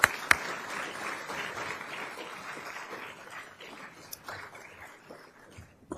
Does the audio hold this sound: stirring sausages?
no